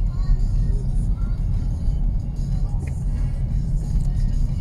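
Traffic on a quiet UK street, a bus and a few cars rumbling past, a steady low engine and tyre roar that stays fairly close throughout.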